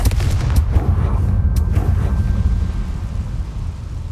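A Confringo fire spell blast goes off in the Hogwarts Legacy video game, a loud, dense booming burst with low rumble, a couple of sharp cracks near the start, then a sustained roar that holds for several seconds.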